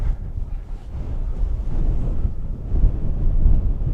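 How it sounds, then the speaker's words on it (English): Strong wind blows hard across an outdoor spot in Utah, a dense, buffeting roar that batters the microphone for the whole stretch, swelling and easing without a break. "It is very, very windy, as you might be able to hear."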